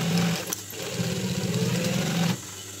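A sewing machine stitches a combination hat, its steady motor whir running continuously for about two seconds before stopping, close and fairly loud with no talking.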